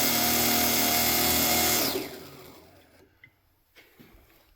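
A homemade knife-sharpening grinder spinning around 2,400 RPM whirs loudly and steadily, then winds down over a couple of seconds into near silence with a few faint clicks.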